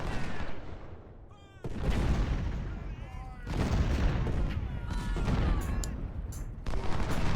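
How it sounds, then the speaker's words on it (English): Howitzer artillery and rifle volleys in Ultimate General: Civil War: surging bursts of heavy booms and crackling fire that swell sharply after quieter gaps, with faint shouts and voices in the mix. "we have howitzers here"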